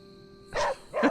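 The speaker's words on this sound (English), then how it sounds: "Hello, little devil dog." Hellhound dog from the video game Midnight Suns gives two short barks in quick succession, clear and close over a quiet game background hum.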